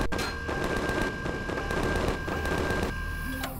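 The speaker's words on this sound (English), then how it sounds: "Was somebody shooting at me?" Gunfire in the space survival game Empyrion Galactic Survival, a rapid run of sharp shots crackling steadily across the whole stretch at moderate distance, with no talking over it.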